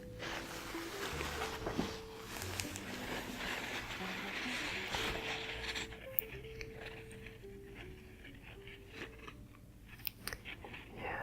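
Continuous rumbling of a train ride in China with steady low drone and tonal hum, plus occasional clicks and knocks; the noise thins out partway through.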